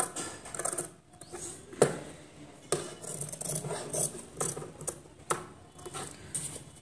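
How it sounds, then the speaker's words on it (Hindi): Scissors cutting fabric to shape a lined suit neckline, a series of short crisp snips at an irregular pace, close and alone. "इसमें हमें छोटे छोटे कट्स डालने हैं इस तरीके से।"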